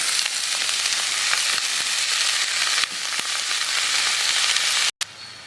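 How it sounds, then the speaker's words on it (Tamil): Onions sizzle and crackle steadily in a hot pan for a cabbage stir-fry, a close, continuous frying hiss with small pops, briefly cut off near the end. "வெங்காயம் நல்லா வதங்கிச்சு"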